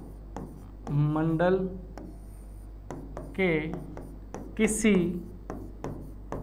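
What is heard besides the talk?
writing on a board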